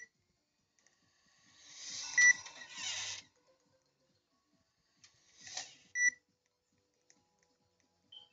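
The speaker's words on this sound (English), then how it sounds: "Oh, it's beeping." A video game emits short electronic beeps in two separate bursts, a longer one around two to three seconds and a briefer one later, each ending in a sharp tone, with quiet gaps between.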